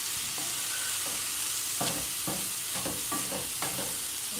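Vegetables for vegan fried rice sizzle in a pan, with a steady hiss broken by a series of scraping stirs, close and moderately loud.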